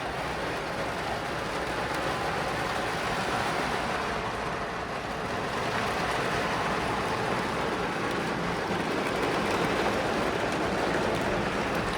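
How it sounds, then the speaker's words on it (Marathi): Steady rain falls in a constant hiss and patter, moderately loud and unbroken, with no voices. "पाऊस पडतोय आणि आम्ही आता इथे थांबलेलो आहोत"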